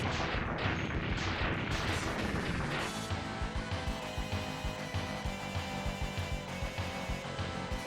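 Acid Burst weapon shots in the video game Mega Man X3 pop in a rapid, steady series of bursts, mixed with dense game music and sound effects throughout.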